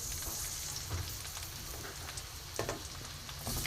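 Chopped onion fries in hot oil with tempered spices, a steady soft sizzle with scattered crackles and pops, heard alone and fairly quiet.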